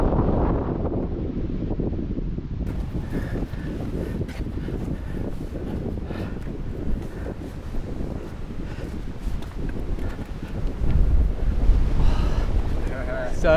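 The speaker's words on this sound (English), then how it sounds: "And it is howling wind." Strong, steady wind buffets the microphone on an exposed mountain summit at The Castle in the Budawangs, roaring loud and close without a break and surging harder near the end.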